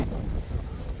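Strong wind buffeting the Prince Hakim passenger launch on the Tetulia river, a steady, loud, low rumbling roar with no talk.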